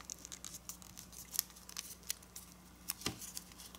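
Quiet paper rustles and sharp crinkles as a sheet is opened and folded for an origami Super Dragon, scattered small taps and crackles close by, with no voices.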